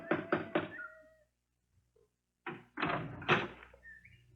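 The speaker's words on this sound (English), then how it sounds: "There was a big brass knocker on the front door." A big brass knocker on a front door raps in two bursts, three sharp knocks, a pause, then a heavier cluster of knocks, close and clear with nothing else heard.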